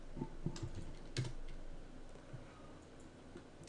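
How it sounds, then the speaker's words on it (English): A few quick bursts of close, quiet keystrokes on a computer keyboard, irregular clicks that thin out and trail off toward the end, with no voices. "I gotta have to type in the whole thing."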